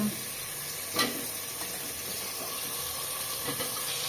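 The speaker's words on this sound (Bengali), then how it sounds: "আলু ভাইজে নিচ্ছি" Potatoes fry in a pan in a home village kitchen, giving a steady close sizzle and hiss with a couple of soft clinks from stirring.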